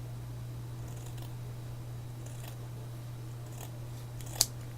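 Scissors snip through a Muji cotton pad in a few faint, soft cuts over a steady low electrical hum, ending with one sharper close click.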